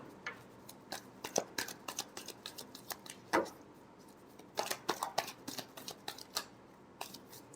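A deck of tarot cards is shuffled by hand, giving a quiet, close run of quick riffling flicks and soft taps in uneven bursts, with brief pauses between them.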